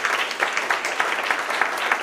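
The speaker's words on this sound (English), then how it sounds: "give them a round of applause as well." A short burst of audience applause at a university gift announcement ceremony, dense and even clapping that holds steady throughout at moderate volume.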